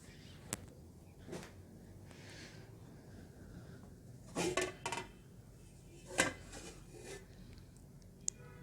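A lid comes off a cake pot on the stove in a single brief metallic clink and scrape, followed by a few quiet handling knocks of kitchenware, close and fairly soft, with no talking.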